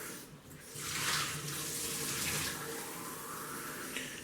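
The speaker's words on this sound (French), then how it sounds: "Alors, un petit peu d'eau chaude." Hot water runs from a tap in a steady, soft hiss, swelling slightly after a moment, heard close and without any talking.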